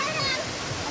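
A waterfall at Sajek Valley in Rangamati gives a steady, close broadband rush of falling water for a brief moment, with a voice faintly mixed in.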